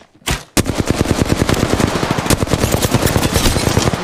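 Rapid automatic gunfire in Apex Legends, a dense run of sharp close shots after a brief quiet start, with steady, evenly spaced reports filling the whole stretch and no talk over them.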